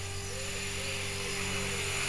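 An HK-450 RC helicopter with an upgraded Turnigy Typhoon 2218 motor runs outdoors, giving a steady whining motor hum with a constant rotor drone.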